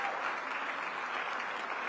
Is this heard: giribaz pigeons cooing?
no